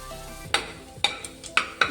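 Onions browning in a pan are stirred, and four sharp scraping strokes of a utensil fall at roughly half-second intervals over a quiet sizzle.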